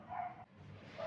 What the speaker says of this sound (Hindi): और कुत्ते बहुत भौंक रहे हैं यार